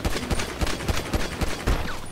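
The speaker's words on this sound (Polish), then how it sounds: "to jest tylko pistolet, to nie jest broń na daleki dystans" Rapid pistol gunfire in Grand Theft Auto Online, a quick string of sharp evenly spaced shots, loud and close, with no talking over them.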